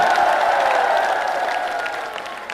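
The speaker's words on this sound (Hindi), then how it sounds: "फिर से बेसिक चोटियाला का जोरदार तालियों की गड़गड़ाहट के साथ फिर से स्वागत किया जाएगा।" A crowd at an outdoor political rally greets a speaker with loud, dense applause and a hum of crowd voices that slowly eases over a few seconds.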